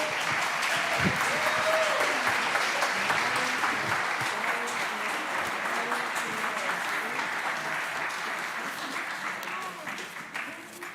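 A crowd applauds after a Diwali celebration performance, loud dense clapping that starts strong and slowly tapers, with some cheering voices mixed in.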